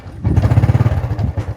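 Up close, a motorcycle engine idles with a firm, thumping rhythm of rapid, evenly pulsing beats that run steadily through the short stretch.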